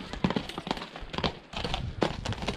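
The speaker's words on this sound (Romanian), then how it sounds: "Vede, e un cal." Hooves of a large horse clip-clopping in an irregular walking rhythm, several sharp clops fairly close over a background of outdoor noise.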